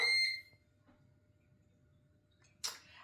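A Ninja Foodi air fryer beeps as it is switched on for dehydrating apple and pear chips, a short bright tone at the start and another brief beep about two seconds later over quiet kitchen background.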